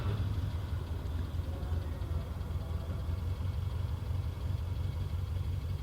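Idle of a 1973 Lancia Fulvia Coupe 1.3 S, a steady, fairly quiet low engine hum that stays even throughout with no speech.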